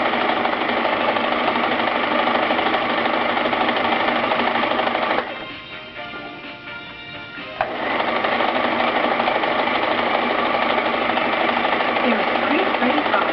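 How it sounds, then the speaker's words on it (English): A Brother XL 2030 sewing machine stitches with a loud, steady mechanical whir. It pauses for about two seconds, then starts again and runs on at the same even pace. "you regulate the sewing speed by depressing the foot controller. The further you depress, the faster the sewing."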